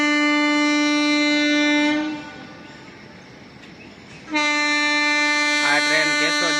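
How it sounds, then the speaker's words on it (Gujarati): The Bandra-Veraval passenger train sounds its horn near Keshod station in the early morning: a long, loud blast, a rumbling pause of about two seconds, then a second sustained blast. "જો મિત્રો ટ્રેનનો વોરન સંભળાય"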